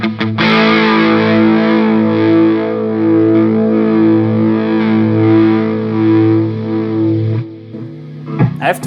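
Electric guitar played through a Mesa Triaxis rack preamp and a Mesa 2:90 power amp, with the mids pushed: one heavily distorted chord held and ringing for about seven seconds, then cut off, followed by a few brief muted scrapes.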